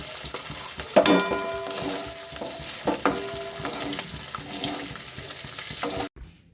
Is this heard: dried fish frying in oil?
yes